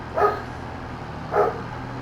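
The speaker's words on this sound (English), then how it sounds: "Sorry, my granddaughter is playing with a dog." A dog barks twice indoors while playing in a living room, two short, clear, moderately close barks about a second apart with no talk.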